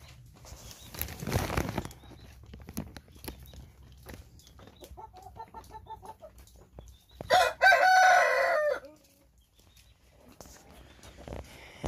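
Hens and roosters on a farm cluck softly, then a rooster lets out a loud, close crow, with wing flaps and scattered pecking noises around it.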